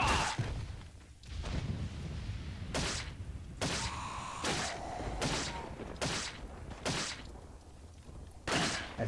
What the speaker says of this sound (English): I'm going to have to probably waste a lot of grenades here.